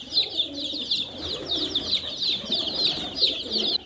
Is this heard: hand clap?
no